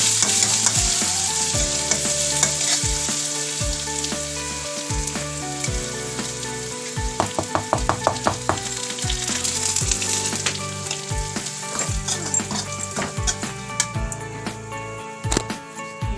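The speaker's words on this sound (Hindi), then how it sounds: "ये बन रहा है मेरा चौसा" Chausa, a paste of stone-ground rajma, soybean and wheat dal, sizzles and fries steadily in a pan with stirring scrapes and clinks throughout, loud and close, no talking.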